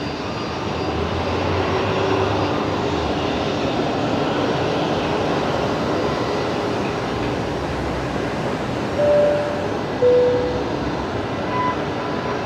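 A Fokker airliner being pushed back at Brisbane Airport fills the air with a loud, steady engine roar and broad rumble that holds throughout, with a couple of brief higher tones near the end.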